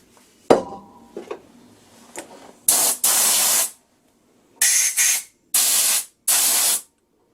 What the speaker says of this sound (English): bit of WD-40 for some lubrication